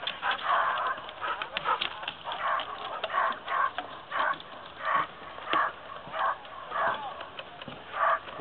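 Dogs barking and yelping repeatedly in short bursts near icy docks in winter, moderately distant, with a muffled, band-limited quality.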